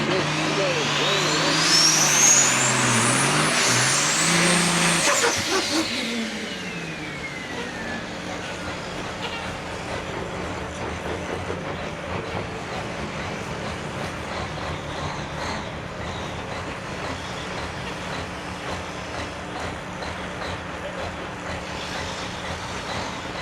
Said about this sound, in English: Look at those trucks.